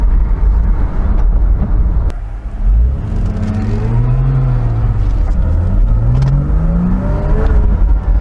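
Porsche 987 Boxster flat-six engine revving eagerly, heard up close as a loud rising and falling whine through several sweeps, with no talk.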